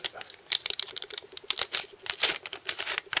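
Rapid crackly, uneven ticking and rustling as a sticky decal from a Matchbox Hunter T7 model kit is pulled away from its backing paper, close and fairly faint.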